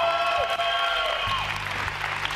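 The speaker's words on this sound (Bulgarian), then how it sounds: "Моля, аплодисменти за моята асистентка!" Audience applause for a young assistant on a television show, moderate clapping under musical tones and a sustained electronic background, fairly faint and mixed.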